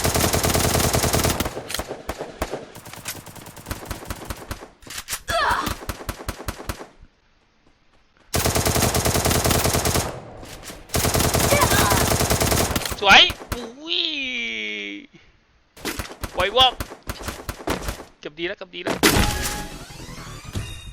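Rapid automatic gunfire in the mobile shooter Free Fire rattles in long loud bursts with short pauses, mixed with game effect sounds and a rising whine, under occasional talk.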